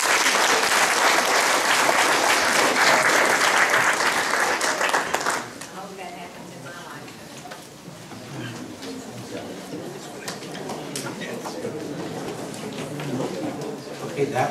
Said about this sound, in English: Give him another applause.